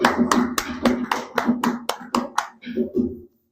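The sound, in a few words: congregation clapping to acclaim the Lord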